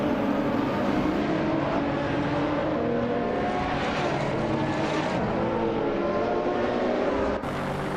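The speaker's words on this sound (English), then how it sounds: "leading to close battles and overtakes, like the Lamborghini Centenario trying to catch the Ferrari" A Lamborghini Centenario chases a Ferrari on a racing circuit, engines roaring loud and continuous as they accelerate and shift, the pitch climbing and changing.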